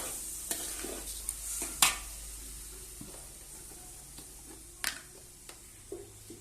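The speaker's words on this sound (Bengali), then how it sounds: "আমি একটু ভালোভাবে কষিয়ে নেব চালটাকে" Rice is sautéed in a pan, a soft scraping stir punctuated by a few sharp metallic clinks of the spoon against the pan over a faint, low sizzle, with no voices.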